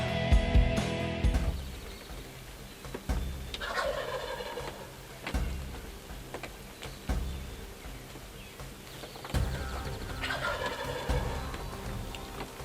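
A wild turkey gobbling outdoors, several loud rattling gobbles spaced a few seconds apart over a background of rustling and faint noise.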